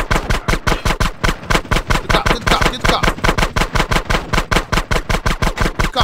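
Rapid automatic gunfire from the video game GTA San Andreas rattles in a steady, evenly spaced burst of loud shots that continues without pause for about six seconds, with no talk over it.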